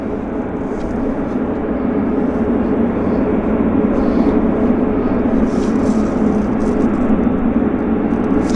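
A WestJet airliner approaches Vancouver airport, its steady broadband engine roar building slightly louder across the clip, with faint background noise underneath.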